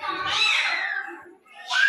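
A child imitates a cat's meow during a classroom activity, a long drawn-out wavering vocal mew followed by a brief pause and a second shorter meow, loud and close.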